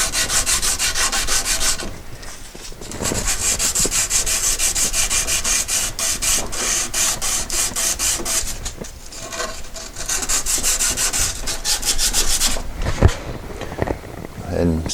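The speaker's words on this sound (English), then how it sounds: "Be sure to scuff up the inside of your fitting and the outside of your pipe." Abrasive scuffing of 2-inch PVC pipe and the inside of a fitting before priming and gluing, a steady raspy rubbing in repeated strokes, close and fairly loud, with brief pauses between passes.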